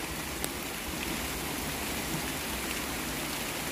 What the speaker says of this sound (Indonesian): Saat hujan,